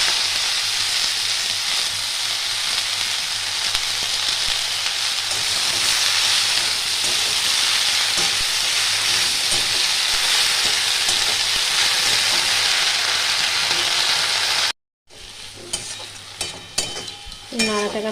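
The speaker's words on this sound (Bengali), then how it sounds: "একটু ভেজে নেব আমি। দিয়ে দেবো শাকগুলো।" Jute leaves with turmeric fry in a pan, a loud continuous sizzle with stirring that stops abruptly near the end, followed by a few clinks and scrapes.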